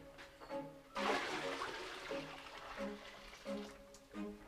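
Water is poured into a clogged toilet bowl, giving a gushing, splashing rush after a quiet start, followed by gurgling surges as the blocked bowl struggles to drain.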